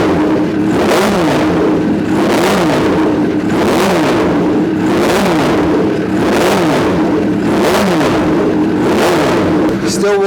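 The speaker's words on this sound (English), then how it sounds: "we're just warming the bike up." Suzuki Bandit cafe racer motorcycle engine idles steadily while warming up indoors, a loud, close, continuous throb with regular rhythmic pulses throughout.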